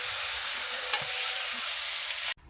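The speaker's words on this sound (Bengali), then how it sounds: "আমার মা পাঁপড়টা ওই যে ভেজে নিচ্ছে" Papad fries in a pan with a loud, even sizzling hiss that cuts off abruptly near the end, with no voices.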